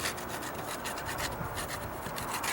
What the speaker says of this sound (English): I said I wouldn't be able to scrape it off this easy